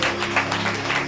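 Church congregation applauding loudly, a dense, sustained burst of many hands clapping at once, filling the brief moment.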